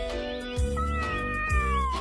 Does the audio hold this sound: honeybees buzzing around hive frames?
no